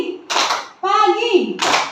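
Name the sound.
audience clapping twice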